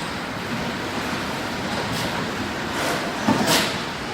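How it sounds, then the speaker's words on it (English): Car factory assembly line at Ulsan, South Korea, a broad steady industrial hum with faint clanks and a brief louder hiss near the end, heard from a raised vantage above the workers. "That's the sound of cars getting made here at Ulsan in South Korea"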